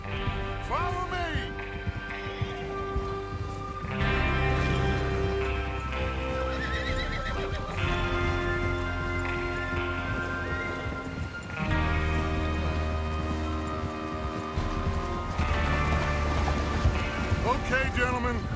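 Horses in the Western video game Red Dead Redemption 2 whinny several times and clop along at a run over steady rain, with music and a voice in the mix.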